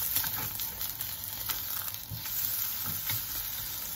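An egg fries in a non-stick pan with a little oil, a steady close sizzle and crackle with a few louder pops, no voices.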